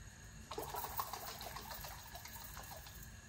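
Water poured from a tap into a glass jar of pepper paste, a faint trickling splash that begins partway through and runs on quietly in a close, small kitchen.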